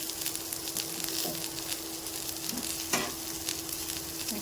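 Chopped onion frying in a pan for a vegetable curry gives a close, lively sizzle, broken by a few scraping stirs of a utensil against the pan.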